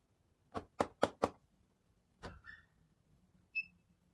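Four quick, evenly spaced knocks on a surface fitted with a vibration sensor, followed after a pause by a fainter single knock and a couple of short electronic beeps, all close and clear against quiet.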